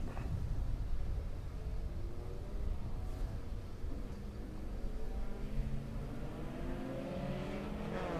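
Mini stock race cars rev and accelerate on a speedway oval at night, a loud, continuous engine roar rising and shifting as the pack pulls away.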